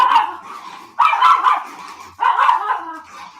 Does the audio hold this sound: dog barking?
yes